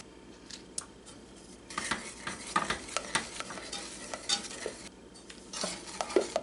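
Butter cubes being stirred into hot caramel in a pan for a salted caramel walnut pie, giving soft scraping and clinking utensil sounds with light sizzling, fairly quiet and irregular.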